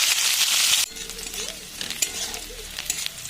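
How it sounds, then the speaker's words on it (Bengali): Chopped onion dropped into hot oil already seasoned with cumin and dried red chilli, giving a loud burst of sizzling that quickly settles into a softer crackle with occasional stirring scrapes, no voices. "এবার দিয়ে দিচ্ছি পেঁয়াজ কুচি।"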